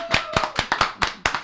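A short burst of applause for a guest in a live radio studio show, with a handful of sharp, distinct hand claps in an uneven rhythm, close and clear, with no voices.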